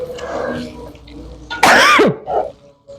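A sharp cough with throat clearing bursts out during home cooking of sambal stir-fried in a village Batak Mandailing kitchen, close and loud, preceded and followed by soft talk.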